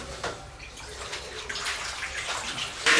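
A high carbon steel knife blade slips into a mix of vinegar, water and baking soda, giving soft sloshing, swishing and dripping at close range, ending in a brief louder splash, with no voices.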